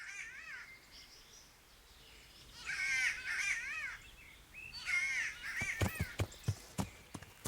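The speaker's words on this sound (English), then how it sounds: "Sounds like a bird is getting strangulated." Harsh, strained crow-like caws from a bird in the medieval game Kingdom Come: Deliverance, a glitching call repeated in bursts, followed by several sharp clicking knocks near the end, with no talk over it.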